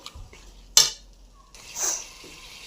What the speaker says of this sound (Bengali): আলুগুলাকে দিয়ে এখন আবার একটু কষাবো।